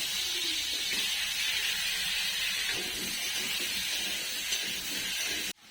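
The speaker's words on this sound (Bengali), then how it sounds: "এটা গরম হয়ে গেছে, এবার আলু আর পেঁপে গুলো দিয়ে দিচ্ছি।" Potatoes and papaya frying in hot oil in a home kitchen give a steady, close hiss of sizzling that holds evenly and then cuts off abruptly near the end.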